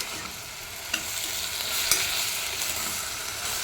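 Brinjal pieces, onion, green chilli and ginger paste fry in oil with a dense, continuous hissing sizzle, close and even, broken by a couple of faint utensil knocks and no voices.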